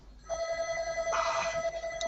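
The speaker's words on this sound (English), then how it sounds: "That is a genuine Ma Bell that is more metal than plastic." An old metal Ma Bell telephone rings, a bright sustained electromechanical bell tone starting after a short silence and continuing loud and close.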